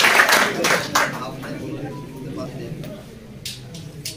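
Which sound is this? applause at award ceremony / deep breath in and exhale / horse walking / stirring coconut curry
applause at award ceremony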